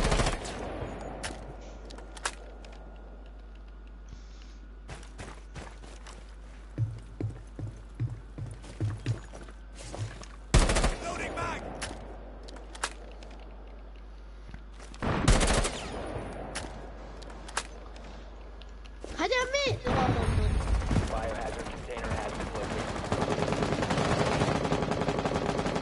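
Bursts of gunfire from a ranked solo match of Rainbow Six Siege, scattered single shots and sharp loud volleys among quieter stretches, with a sustained rattling barrage near the end.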